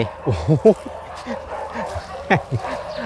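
A dog barks and yips nearby in quick, uneven bursts mixed with whiny, howl-like whimpers, a few calls clustered early and another sharp burst later.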